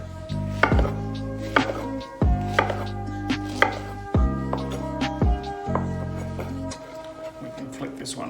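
A knife chops through pineapple on a board in a series of sharp, close thuds, one every second or so, while a person talks throughout.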